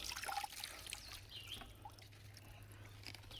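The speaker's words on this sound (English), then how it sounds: "I'm just agitating the bucket of water here." Water sloshes and trickles in a bucket as plant roots are agitated and rinsed, faint, close splashes and small drips over a quiet low hum, no voices.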